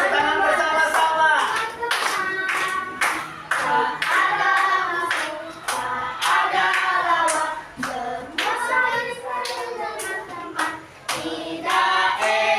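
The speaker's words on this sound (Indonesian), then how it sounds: "Tepuk tangan bersama-sama." Children clap their hands together in a steady, loud rhythm during a classroom singing activity, with voices singing and calling out over the claps throughout.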